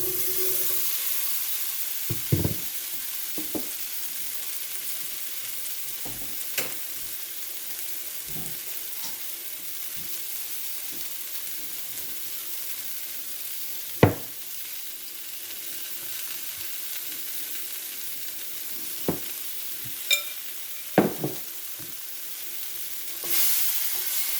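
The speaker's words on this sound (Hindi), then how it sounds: "ये हमारा पैन गरम हो गया है, तो अब मैं इसमें पोटैटो शामिल कर दूँगी।" Mini potatoes fry in a little olive oil in a hot pan for a Pakistani lamb chop dish, giving a steady close sizzle with occasional sharp clicks and scrapes of stirring, with no talking.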